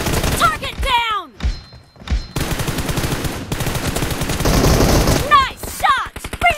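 Rapid automatic gunfire crackles through a 4 vs 4 shooter match, loud close bursts interrupted by whooshing effects and game announcer voice lines.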